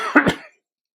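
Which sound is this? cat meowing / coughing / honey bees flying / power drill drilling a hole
coughing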